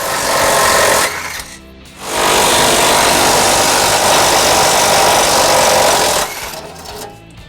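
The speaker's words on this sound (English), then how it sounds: "It is held in place by 3 bolts up in here, and we're going to use a 17mm socket" Loud, close buzzing of a power tool driving a 17mm socket on the tow hook bolts of a 2003 Acura MDX, in two long sustained runs with a short pause between them.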